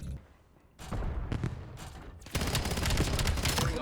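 Rapid bursts of automatic gunfire from the Black Ops 7 beta video game, starting after a quiet moment and building into dense, loud sustained shooting.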